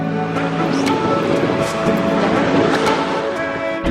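Steady sea surf rumbles and washes continuously at a beach, a broad roar with a faint voice beneath it.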